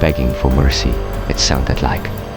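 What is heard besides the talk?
No everyday noises stand out.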